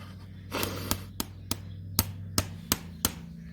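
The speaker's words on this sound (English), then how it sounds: "The harder you hit, the more it'll drive it out." A hammer taps a nail out of a horseshoe during shoeing, striking about eight sharp, evenly spaced metallic blows close by over a low steady hum, with no talking.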